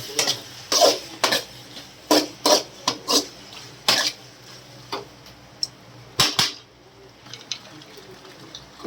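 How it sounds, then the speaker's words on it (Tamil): Cooked pasta is tipped into a pan and stirred, with a string of sharp metallic clinks and scrapes of a spoon against the pan that thin out toward the end. "இந்த பாஸ்தா ஃபுல்லாக எல்லாம் கொட்டிட வேண்டியதான்"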